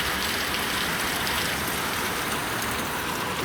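Heavy rain pouring down in Mangalore, a dense, constant hiss of water striking surfaces, loud and unbroken for the whole stretch, with no voices.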